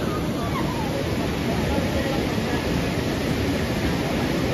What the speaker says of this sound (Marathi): गंगा मैया पहाड़ी से होते हुए आती है इधर.